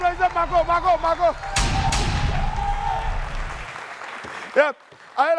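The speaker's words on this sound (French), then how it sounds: "Applaudissez Margot." Studio audience applause on a television variety show, a dense clapping burst of about two seconds that breaks into a host's voice talking before and after.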